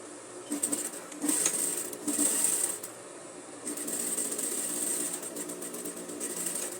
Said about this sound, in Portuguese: Virei a costura para o lado da braguilha e fiz um pesponto fino por cima.